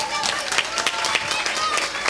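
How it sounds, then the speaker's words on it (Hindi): An audience claps at a church Christmas carols gathering, a steady patter of many hands with sharp individual claps standing out, moderately loud and continuous. "तालियां बजानी फिर भी बहनों के लिए"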